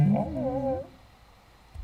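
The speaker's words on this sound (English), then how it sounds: "Oh, that sniffer." A Minecraft sniffer mob gives a short warbling, whale-like call of rising and falling tones for under a second, then the clip fades to quiet.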